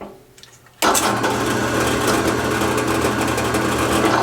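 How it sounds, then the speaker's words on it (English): A drill press motor whirs abruptly to life after near silence and keeps running at a steady, loud, buzzing drone, close up, spinning a wooden ball. "I put the drill down and I started drilling."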